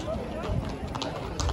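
Horse hooves clip-clop at a village saint's-day festival on Lesbos, with a crowd murmuring and voices talking throughout; the hoofbeats are soft, irregular and partly masked by the chatter.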